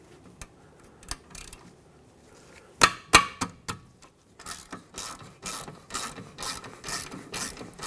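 A wrench breaks loose the 14mm caliper bracket bolts on a rear brake of a 2013-2018 Hyundai Santa Fe: a few sharp metallic knocks, then a run of rapid, close ratcheting clicks, with no talking.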